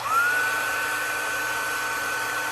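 A heat gun blows steadily on the front of an iPhone 7 to loosen the screen adhesive, making a loud, even whooshing whine that rises in pitch at switch-on and then holds.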